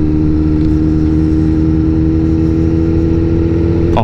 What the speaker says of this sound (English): you see the guy riding the bike